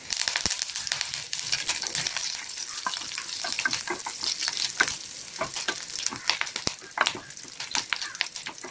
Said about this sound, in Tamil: இப்போ 4 காஞ்ச மிளகாய் சேர்க்கலாம். இது கூட கருவேப்பிலை.